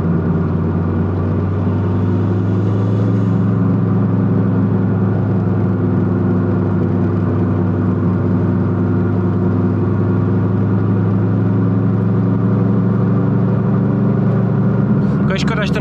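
A Mitsubishi Lancer Evo 7 engine drones steadily at cruising speed in sixth gear, heard from inside the cabin, a constant low hum with faint road noise throughout.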